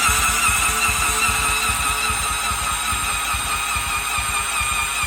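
An engine cranking on a battery booster with the throttle held open, a steady loud mechanical churn with rapid low pulsing that runs continuously close by, no voices.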